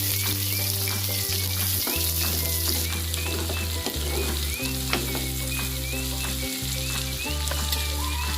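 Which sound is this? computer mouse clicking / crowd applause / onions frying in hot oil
onions frying in hot oil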